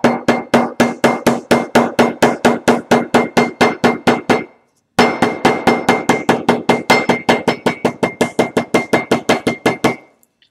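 Leather buckstitching is hammered flat with quick, even, loud blows, about twenty strikes, a brief pause, then another run of twenty or so, all close up with no voices.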